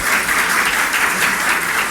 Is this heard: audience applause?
yes